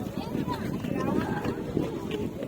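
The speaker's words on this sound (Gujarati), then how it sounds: "આ બાજુ છે પવન આવે" Wind sweeps across an open old stone stairway high on Girnar mountain, a close, continuous low buffeting rumble against the microphone for a couple of seconds.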